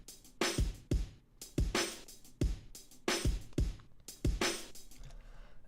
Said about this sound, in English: if I solo out the drums compression send, it sounds like this